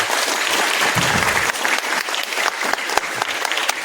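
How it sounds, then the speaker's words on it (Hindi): A crowd at a ghazal performance claps steadily and loudly, a thick continuous roar of many hands with no pause. "कानों से तभी देखेंगे जब आपकी तालियों की आवाज होगी"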